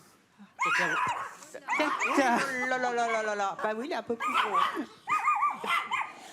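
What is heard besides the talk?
dog barking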